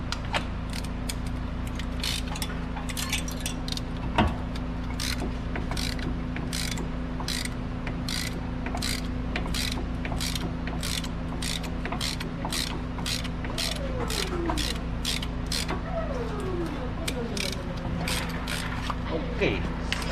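A caliper piston tool on a 2016 Nissan Pathfinder brake job gives off rapid repeated ratcheting clicks and creaks throughout, close up over a steady low mechanical hum.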